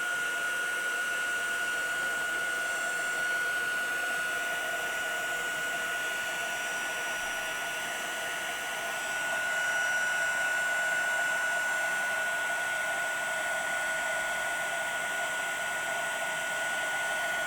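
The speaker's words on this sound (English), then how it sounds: "So here it goes, the heat tool." A handheld heat tool blows hot air in a steady, loud whoosh with a constant high whine, running alone without pause for the whole stretch while working on doughnuts.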